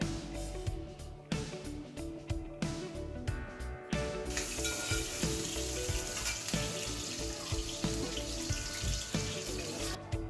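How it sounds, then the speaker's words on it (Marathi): Potatoes fry in oil or ghee for sabudana khichdi, a steady close sizzle with soft crackles and a few clinks from stirring, running throughout with no talking. "बटाटा हे दोन तीन मिनटं जरा असा तेलामध्ये किंवा तुपामध्ये परतून घ्या व्यवस्थितपणे"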